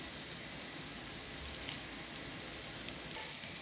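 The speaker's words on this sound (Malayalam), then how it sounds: "ഇഞ്ചിയും വെളുത്തുള്ളിയും കുരുമുളകും കറിവേപ്പിലയും കൂടി ചേർത്ത് ഒന്നുകൂടി ഉള്ളി നന്നായിട്ട് വഴറ്റിയെടുക്കാം." Onion sautés in a pan with ginger, garlic, pepper and curry leaves for a tilapia dish, giving a faint, steady sizzle with a few soft stirring scrapes and no talking.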